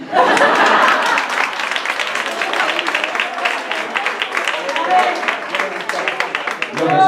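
An audience at a disability awareness event bursts into dense, sustained clapping that fills the room. It stays loud and steady for several seconds, with a few voices and light laughter mixed in.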